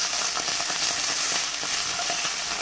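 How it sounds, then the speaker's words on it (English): Sour cream and kale stirred together in a hot pan, a steady close sizzle with soft repeated scraping strokes of a utensil throughout, no voices. "And then we're going to stir it all together."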